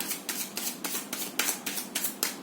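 A single tarot card being pulled from the deck, heard as a rapid, even series of about nine dry, close scraping swipes, steady and clear against a quiet background with no voices.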